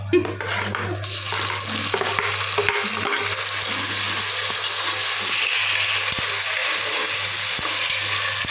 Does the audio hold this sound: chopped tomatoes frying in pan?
yes